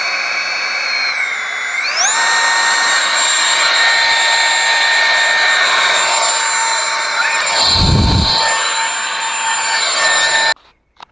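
A brushless motor glued inside a PVC pipe blower with a gun handle, driven through a Racestar RS30A ESC, whines at full throttle. The steady high-pitched tone climbs sharply early on, holds loud and even, then cuts off abruptly.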